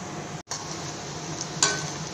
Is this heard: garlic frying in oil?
yes